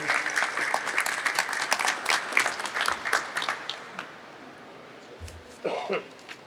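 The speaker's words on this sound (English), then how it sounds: "So a round of applause to them for what they do" Applause from a crowd at a Pennsylvania Dairy Month event honoring dairy farmers, with loud clapping through the first few seconds that thins and fades, followed by a cough and quieter room sounds near the end.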